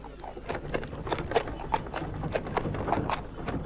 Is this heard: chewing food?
no